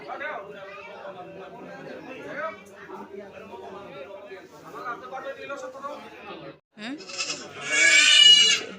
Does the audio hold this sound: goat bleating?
yes